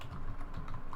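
Steady typing on a computer keyboard, a quick, even patter of close key presses heard alone over a brief stretch while code is entered.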